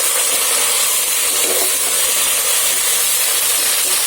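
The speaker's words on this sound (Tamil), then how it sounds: "இது கூடவே பீட்ரூட் கிழங்கும் சேர்த்து நல்லா வதக்கிக்கோங்க." Beetroot and potato sauté in a pan with softened onions for sambar. A loud, even sizzling hiss continues throughout, close up.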